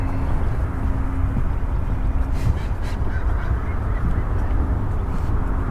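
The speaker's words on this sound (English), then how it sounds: "Lots of distant ducks." Faint, scattered quacking of ducks far off at an early-morning riparian preserve, mixed into a constant low rumble of outdoor noise.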